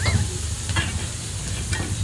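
Food sizzles steadily in a wok as a chef stir-fries at a Bali warung, with hissing broken by brief scraping clatters of the utensil.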